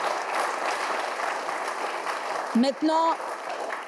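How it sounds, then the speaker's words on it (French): Applause from a studio audience on a television show, a dense steady clapping that runs throughout, with someone briefly speaking over it near the end. "on va applaudir Maman Georgette"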